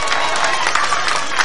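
An outdoor audience claps in a short, dense burst of applause, steady and fairly close, with no distinct voices.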